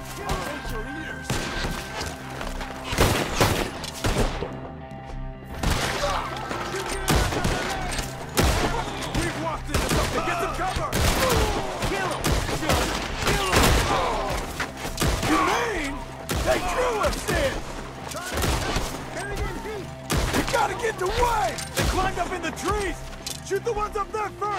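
Gunfire in Red Dead Redemption 2: rapid, repeated shots crack throughout in a dense firefight, mixed with shouting voices and game ambience.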